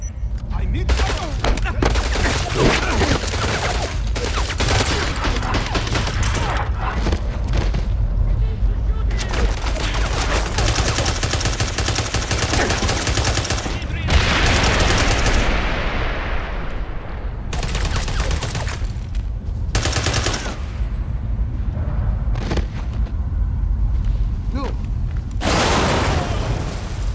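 Gunfire in the James Bond 007: Blood Stone video game, loud sustained bursts of automatic fire and booming shots rattling almost without pause, with shouted voices mixed into the din.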